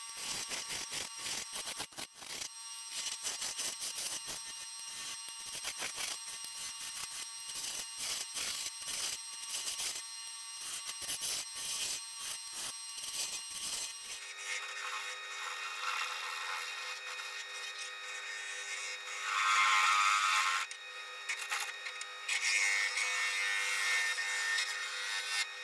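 Skew chisel cutting a spinning wooden birdhouse on a lathe, a fast run of scraping, rasping cuts giving way to a smoother continuous hiss and brief louder shaving bursts, with no talking.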